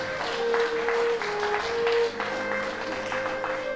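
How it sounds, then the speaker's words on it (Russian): Wedding guests applaud and cheer steadily at a marriage ceremony, with music playing underneath. "Ваши аплодисменты, друзья!"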